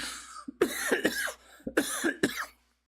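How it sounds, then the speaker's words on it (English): A run of harsh, throaty coughs in two bursts, close and loud, with short pauses between the hacks and silence at the end. "Had to end it with a cough."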